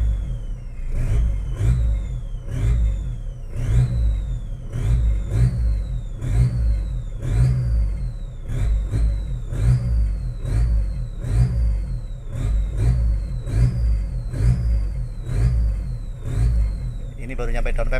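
Isuzu Panther Touring diesel engine fitted with an F55 Turbo Flex turbo, revved repeatedly in rising and falling surges with a whistling turbo spool over a deep engine rumble, close by, with voices talking throughout.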